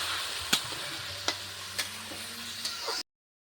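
Raw banana and chana dal sizzle steadily in a pan, a soft continuous fry punctuated by four sharp spatula scrapes or taps spaced about a second apart, ending abruptly.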